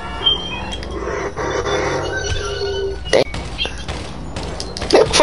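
A few sharp gunshots crack out during a GTA 5 roleplay street encounter, with scattered thuds and impacts under ongoing background noise.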